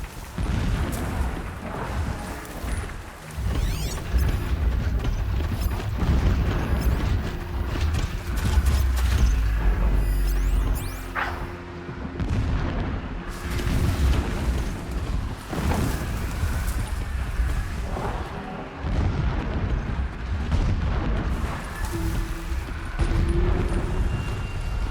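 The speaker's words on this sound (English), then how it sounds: "explosions in the distance" Distant explosions in the video game Horizon Zero Dawn, heard as deep booming rumbles rolling under a steady wind-like wash of ambient game sound, with no voices.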